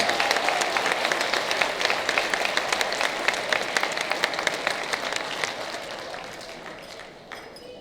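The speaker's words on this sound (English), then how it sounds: "Big round of applause for our high honor presidential award recipients." Middle school crowd at an eighth grade moving-up ceremony applauds the presidential award recipients, a broad, steady roar of many hands clapping that slowly thins toward the end.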